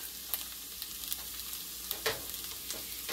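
Browned butter sizzles steadily in an egg pan as eggs go in, a close, even frying hiss with a few small crackles and pops scattered through.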